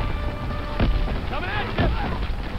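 Grenade blasts in a Call of Duty: WWII campaign battle on the Rhine, two heavy booms about a second apart over constant battlefield din, with shouting voices in between.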